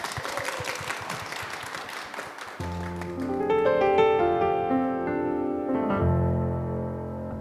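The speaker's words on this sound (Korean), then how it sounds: "박수로 청해 듣겠습니다." Applause from a talk-show audience runs for a couple of seconds, then gives way to a piano and strings introduction as a song begins.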